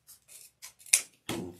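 Scissors snipping through folded wired ribbon, a few short crisp cuts close up, ending in one louder final snip in a quiet room.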